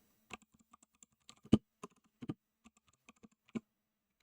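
Keys on a computer keyboard are tapped in short irregular clusters at close range, quiet and alone while a file gets renamed.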